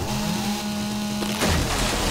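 Chainsaw in the 7 Days to Die survival video game (Alpha 18), a steady, loud motor drone that holds on, then shifts and grows rougher partway through, with no talking over it.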